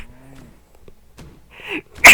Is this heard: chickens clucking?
no